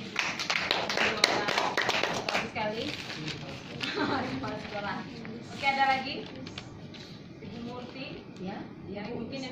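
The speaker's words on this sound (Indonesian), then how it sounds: "Oke, tepuk tangan dong" Audience applause at a national PPK facilitator selection session: a burst of many hands clapping fills the first few seconds, then thins out under continuing talk in the room.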